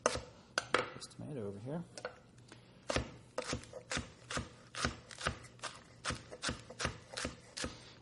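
A knife slices through rolled romaine lettuce into thin ribbons on a cutting board, giving a series of crisp, fairly regular chopping taps, close and clear, with a brief spoken remark partway through.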